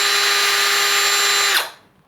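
Vonroc 20V cordless drill whirring steadily at high speed with a constant motor whine, close and loud, then spinning down and stopping near the end.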